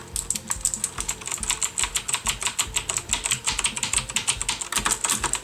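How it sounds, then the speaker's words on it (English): Rapid clacky keystrokes on a Logitech G710 mechanical keyboard, a steady close-up patter of clicks continuing throughout with no one speaking. "I'm actually going to do a bit of a sound test right now so that you guys can see the keyboard sound."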